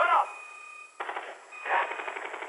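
Video game gunfire crackles in rapid automatic bursts, one at the start and two longer stretches after, fairly loud against a thin high electronic tone, no voices.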